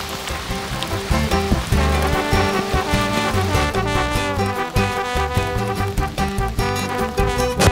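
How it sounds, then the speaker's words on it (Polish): Rain falling steadily on a sailing boat at sea, a dense, loud hiss and patter spread across the whole stretch, with no talk. "Ile zgadniecie? Pada."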